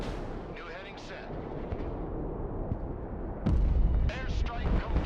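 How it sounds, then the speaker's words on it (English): Airstrike explosions in a combat video game: a few deep, rumbling booms and blasts, with a heavier impact near the end, mixed with a voice talking over the noise. "Airstrike complete."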